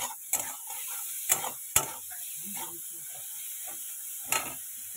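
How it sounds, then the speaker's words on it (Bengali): Food fries in a pan before being cooked with mustard: a steady hiss runs underneath while a spoon scrapes and clinks against the metal in a few sharp, close strokes. "এটা সর্ষে দিয়ে করবো, তো এটা ভাজা হোক আগে"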